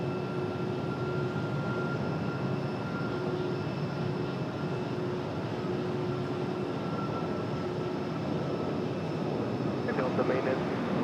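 A departing airliner at RDU airport heading to Newark, its jet roar a steady broadband rush with faint high tonal whines, heard at a distance and unbroken throughout.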